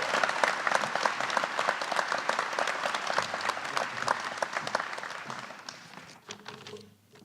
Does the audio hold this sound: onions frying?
no